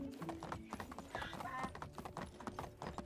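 Horse hooves clip-clop in a steady rhythm in the video game Medieval Dynasty, a close trotting beat with a soft whinny, while a voice talks over it.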